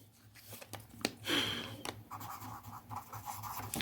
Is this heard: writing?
yes